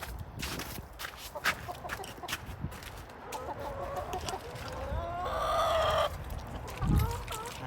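Chickens in a backyard coop clucking and calling close by, with a rooster crowing partway through, under light outdoor background noise.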